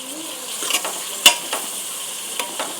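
Thinly sliced onions and chopped green chillies sizzle in hot oil in a pan for a goat brain and head curry, with a steady close hiss and a few stirring knocks and scrapes, and no talking.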